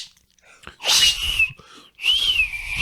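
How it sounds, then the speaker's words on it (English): A loud two-part whistle from Dolittle in a film scene: a sharp rising blast, a short pause, then a second long sustained whistle that wavers slightly in pitch, heard alone. "Dolittle whistles to put an end to it."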